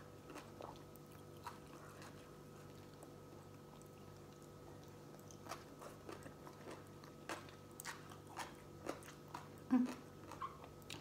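Someone eating Thai papaya salad with blue crab, with scattered wet bites, crunches and chewing at close range that grow more frequent and louder toward the end, over a steady low background hum.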